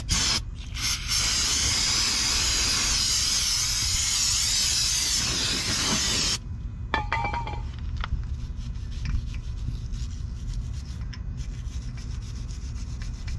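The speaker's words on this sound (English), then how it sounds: "I just use the Walmart brake parts cleaner." A can of cheap aerosol brake parts cleaner sprays onto a wheel hub in one loud, continuous hiss lasting about six seconds, then cuts off, leaving faint workshop clatter and scraping.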